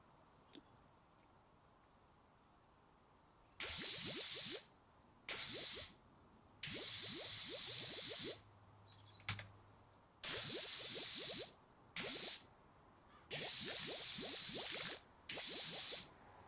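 A power washer in Power Wash Simulator spraying cleaning liquid in repeated loud bursts of hissing spray, separated by short pauses, with faint clicks between them.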